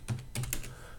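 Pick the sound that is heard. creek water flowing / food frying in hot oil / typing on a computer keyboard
typing on a computer keyboard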